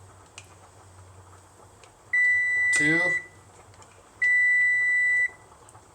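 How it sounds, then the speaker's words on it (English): Two long, loud electronic beeps from a kitchen timer set for cooking pasta, each lasting about a second, separated by a short pause, with a brief spoken word between them. "That's beeping. That's for our pasta."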